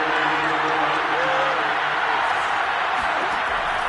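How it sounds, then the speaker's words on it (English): Stadium crowd noise from a Madden 22 American football game, a steady broad roar of cheering held at an even level for the whole stretch, with a faint voice trailing underneath. "the crowd getting into it as we come up on a big 3rd down"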